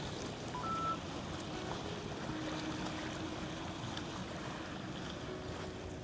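Steady sea surf washing onto a sandy shore during a calm seaside walk, a continuous broadband wash with light wind noise and no speech.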